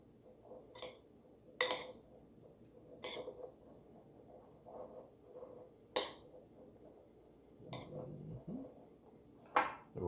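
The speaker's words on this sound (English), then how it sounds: "Take our time and mix that gently. Make sure we cover all of the rice." Warm sushi rice is mixed gently in a bowl, with soft clinks and taps of a utensil against the dish recurring every second or two over a quiet background.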